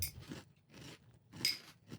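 Crunchy ginger-flavored cereal being chewed up close, in about four quiet, crisp crunching bursts spaced evenly apart with short silences between.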